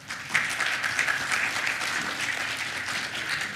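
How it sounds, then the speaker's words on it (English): An audience at the ASEAN Indo-Pacific Forum gives speakers and a moderator a short burst of continuous, even applause in a large room, with no voices over it. "A round of applause to our incredible speakers and moderator for making this a very fruitful discussion."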